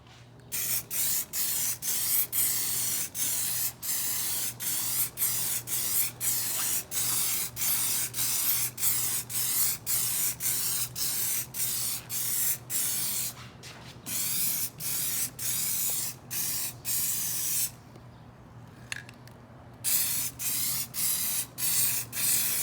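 A spray can of Flexi Dip hisses steadily onto 15-inch beadlock wheels in long, close, loud bursts, broken by brief pauses and the rapid clicking of the can's nozzle.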